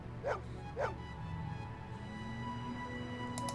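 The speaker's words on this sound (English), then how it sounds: "Say goodbye to the dog." A dog in the video game Blade Runner gives two close, short yipping barks followed by a whimpering whine, over a low humming room ambience.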